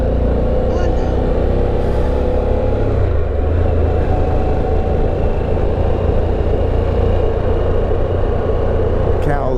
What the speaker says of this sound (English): Got a downshift.